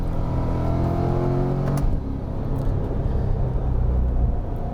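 A 2022 Chevrolet C8 Corvette Z51 accelerates at about half throttle on a wet, chilly road, its steady engine drone climbing in pitch before a brief shift, then continuing as a broad rumble.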